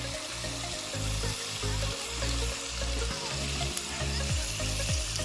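Chicken pieces fry and sizzle in a pan, a loud, continuous crackling hiss with occasional stirring scrapes, close and steady throughout.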